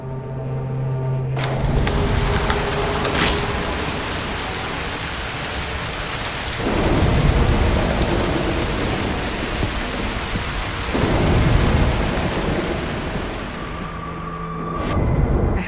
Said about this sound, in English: A storm could help.